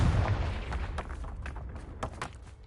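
A Confringo spell explosion in the video game Hogwarts Legacy: a loud, deep booming blast at the start, then a rumbling tail with scattered sharp cracks and thuds fading over a few seconds.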